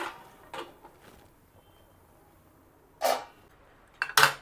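Jowar appe being flipped in an appe pan and a lid set on it, heard as a few faint scrapes followed by two louder metallic clinks and clatters near the end, with no voices.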